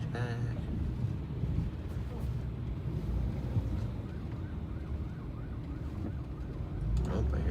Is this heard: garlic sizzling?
no